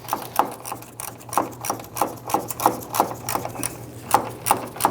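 A hand ratchet snugs down the bolts on a front fender of a 1997-2006 Jeep Wrangler, making close, rapid, even clicking in a steady rhythm of repeated strokes.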